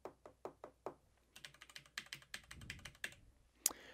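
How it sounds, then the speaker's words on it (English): A few sharp knocks of fingers tapping a desk, then a quick run of clicky keyboard keystrokes, recorded on an Elgato Wave:1 microphone, close and fairly quiet, ending with one harder clack. "I'm gonna do that same tapping on the desk and hit the keyboard"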